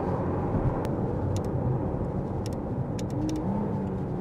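A McLaren Artura driving on a bumpy, twisty road, with a steady, loud engine drone and road roar that carries on without a break and has a few faint clicks on top.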